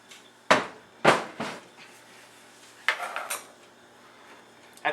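Zucchini bread batter with flour being mixed in a large bowl, heard as several sharp utensil knocks and scraping clatters against the bowl, spaced irregularly and close by.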